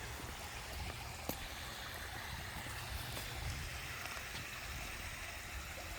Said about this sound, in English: Hear the sound of the waterfall outside.